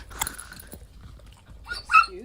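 A puppy gives a short bark and whimpering yips at close range, with brief talking around it in a home setting.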